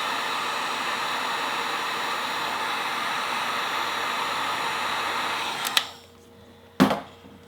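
A heat gun blows a steady, loud, even hiss while shrinking tubing over a soldered motorcycle wiring harness wire, then cuts off abruptly, followed by a couple of sharp clicks and handling knocks.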